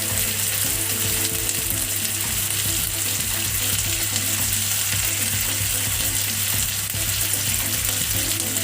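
Chana masala with yogurt sizzles and fries in a pan while being stirred, a loud continuous crackle with scraping stirring noises and a steady low hum underneath, no voices.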